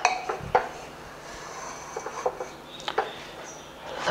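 Spoon scraping and clinking against a pot while peas pulao is served onto a plate, several light metallic taps and scrapes spaced irregularly, close and fairly quiet, with no talking.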